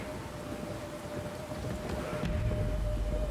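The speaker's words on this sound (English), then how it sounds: "Raining." Steady rain in the video game Trek to Yomi hisses throughout with a faint tonal hum, and a deeper rumble swells near the end like distant thunder.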